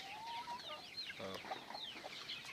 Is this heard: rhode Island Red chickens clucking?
yes